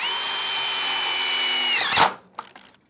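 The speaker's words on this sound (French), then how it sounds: "on va visser directement dans l'aluminium au centre du chanfrein" A power drill whines steadily as it drives screws into the aluminium of a modular sheet-metal bender, then stops abruptly, followed by a couple of light clicks and handling noises.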